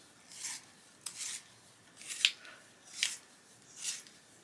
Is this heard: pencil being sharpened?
yes